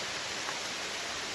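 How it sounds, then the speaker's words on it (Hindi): Heavy rain falls at night over a mountain village, a steady, dense hiss that holds even throughout with no breaks and no voices. "काफ़ी तेज़ अभी बारिश लगी हुई है। बारिश की आवाज़ आपको सुनाई दे रही होगी"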